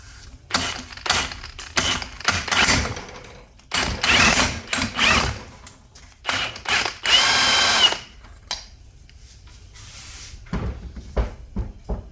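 A power tool works a 19 mm bolt on a 2003-2008 Toyota Corolla front strut in several close, loud bursts of whirring and rattling separated by short pauses.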